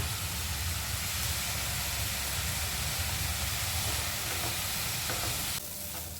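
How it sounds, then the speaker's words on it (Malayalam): Chopped garlic tipped into a pan where onions are already frying with salt, giving a loud, steady sizzle and crackle that fills the whole stretch, easing slightly at the very end. "അരിഞ്ഞു വെച്ചിരിക്കുന്ന വെള്ളത്തുള്ളി ഇതിലേക്ക് ഇട്ട് കൊടുക്കാം"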